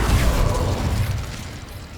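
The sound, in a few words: Incendio fire spell from video game Hogwarts Legacy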